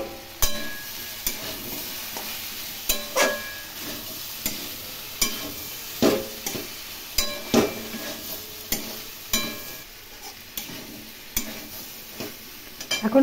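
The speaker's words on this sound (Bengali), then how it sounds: "এখন ঢাকা দিয়ে বারবার নেড়ে নেড়ে এই সবজিটি রান্না করতে হবে।" Mixed vegetables frying in a covered pan, with green chillies and a little sugar added, stirred repeatedly: steady sizzle under a run of scraping, clattering stirs spaced every second or so, close up and with no talk.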